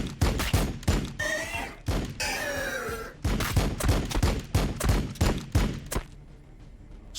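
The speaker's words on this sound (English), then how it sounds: "Firing on the enemy" Rapid volleys of gunfire from a Warhammer 40K: Battlesector battle, loud sharp shots repeating in dense bursts with brief pauses, alone without talk.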